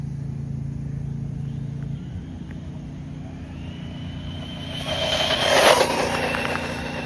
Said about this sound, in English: All right, that was full throttle.